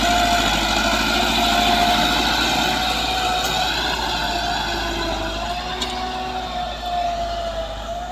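A Massey Ferguson 385 tractor with a hydraulic fault idles nearby, a steady, loud diesel drone with a low rumble and a faint whine rising and falling across the whole stretch, with no talk.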